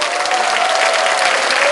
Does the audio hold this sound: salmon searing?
no